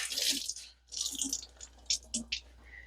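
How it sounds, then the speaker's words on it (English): A wet kitchen towel is wrung out over a sink: a loud rush of water, a pause, another pour, then a few separate splattering drips and trickles close by. "I'll wring out that water."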